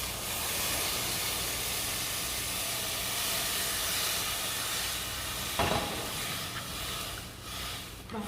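Beef stock pouring into a pot of onion soup, a steady close hiss and sizzle with a brief splashy burst midway.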